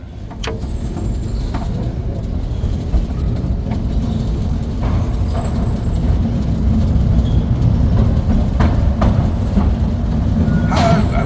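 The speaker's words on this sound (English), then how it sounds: "You're about to explore some of London's hidden underground postal railway" A small train on London's underground Mail Rail postal railway rumbles along continuously with rattling and intermittent sharp squeals and clicks from the track, loud and close, growing slightly louder over time.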